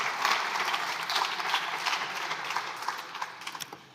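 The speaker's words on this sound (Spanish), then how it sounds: "Les pido un aplauso." Dense, steady applause fills a parliament chamber, many hands clapping at once at a moderate distance, holding an even level throughout without voices.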